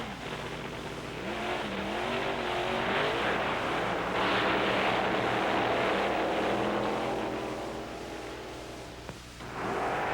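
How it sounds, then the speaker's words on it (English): Dragsters in a top-ten fastest run-off on a drag strip roar past in a loud, sustained blast of racing engines that swells and fades, with no voices over it. "the top 10 fastest dragsters go at it again"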